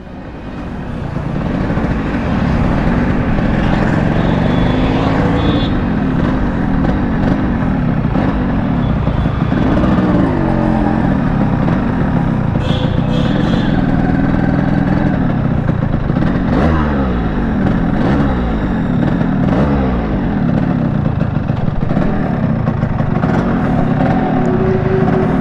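A 1997 Yamaha RXG motorcycle with a newly replaced shift spring runs steadily while being ridden, its engine drone loud and close, rising and falling with throttle changes and a few sharper revving bursts along the way.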